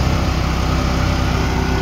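A Yamaha Ray ZR scooter engine revs loud and close, a steady buzzing drone with a slightly raised pitch, unbroken and without voices.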